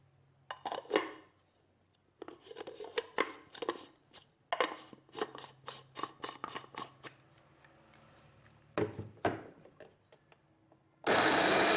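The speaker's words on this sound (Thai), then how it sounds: "เราก็ใส่เครื่องปั่นเลยนะคะหั่นเสร็จแล้ว" An electric blender whirs in short bursts as it purees freshly cut chili for a chili-salt fruit dip, the pulses separated by pauses, ending in a sustained loud run.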